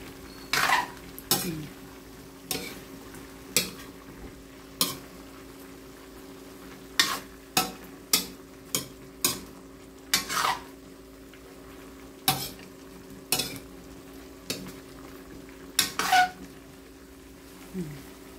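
Pinakbet vegetables, including crunchy bitter melon and long green chilies, being stirred in a cooking pan, with a steady run of sharp utensil clacks and scrapes against the metal over a faint hum.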